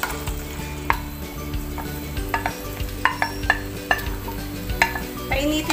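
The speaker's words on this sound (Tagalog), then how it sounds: "ihuhulog na natin ngayon yung ating minix na tofu and pork" A pork and tofu mixture dropped into a hot pan, a steady soft sizzle with repeated sharp scrapes and clinks from stirring, close.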